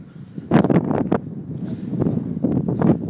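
Cold spring wind gusts past a microphone on the Hebburn riverside, coming as loud, rough buffeting bursts over a low steady rumble, with no talking.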